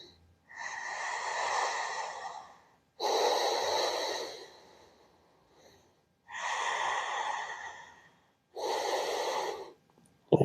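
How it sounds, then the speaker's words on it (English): Slow, deep belly breathing during a yoga session, four long audible breaths alternating inhale and exhale, close and airy with short quiet gaps between them. "And just deep belly breathing."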